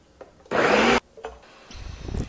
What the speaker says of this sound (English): And then I'm gonna put them all in a blender to blend them up.